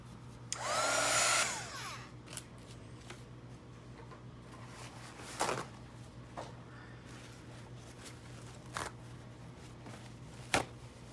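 A hair dryer blows on a freshly painted journal page in short bursts, a loud close whoosh lasting about a second near the start, followed by quiet room tone with scattered paper rustles and small knocks.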